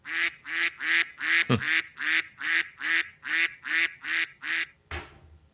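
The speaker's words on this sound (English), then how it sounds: "Let's go ahead and give them a free quack, quack, quack." Loud, evenly spaced quacking calls from a duck, about a dozen in steady rhythm, close and dominant, ending with a sharper final burst; no talk.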